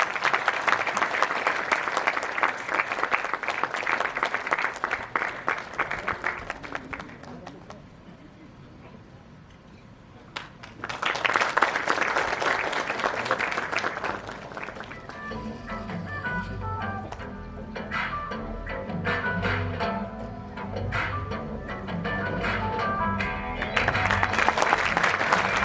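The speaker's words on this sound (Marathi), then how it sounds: "जोरदार टाळ्या झाल्या पाहिजेत." Loud applause from the audience at the Marathi Indie Music Awards ceremony during an honouring with a shawl, bouquet and trophy, in dense bursts that alternate with stretches of music.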